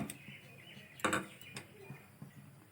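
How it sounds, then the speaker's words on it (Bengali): A metal wok is set down on a gas stove in a home kitchen, giving one sharp clanking knock amid a few softer clinks and taps, close and fairly quiet. "কড়াই বসিয়ে দিলাম।"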